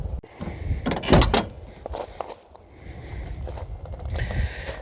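A car door with a newly fitted bushing swings shut with one solid close about a second in, surrounded by nearby mechanical rustle and handling noise, with no talking.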